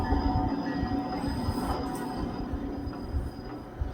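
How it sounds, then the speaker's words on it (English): A Chicago and Northwestern Railroad train crossing the Iowa farmlands: a continuous loud rumble of rolling wagons with rhythmic wheel clatter and faint squeal, close by and with no voices. "Operated now by Chicago and Northwestern Railroad, it traverses the rich farmlands of Iowa."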